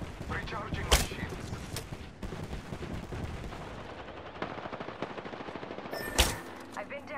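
Rapid gunfire from an Apex Legends match rattles almost nonstop, with a few louder shots standing out over the steady bursts, while a player talks over the action.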